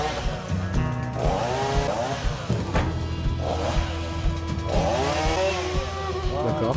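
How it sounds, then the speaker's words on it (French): A chainsaw engine roars and revs up and down while it cuts through wooden planks on a sheep shelter under construction, loud and close for the whole stretch with voices in the background. "Ok, il sort la tronçonneuse direct."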